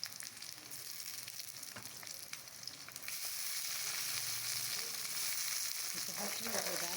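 Chopped tomatoes hit browned onions frying in a pan for a green chilli mince dish, and the sizzle grows louder and hisses steadily, a quiet close-up with no talking.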